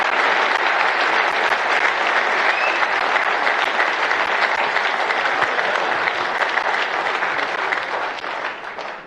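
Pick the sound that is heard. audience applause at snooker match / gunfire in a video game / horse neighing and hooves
audience applause at snooker match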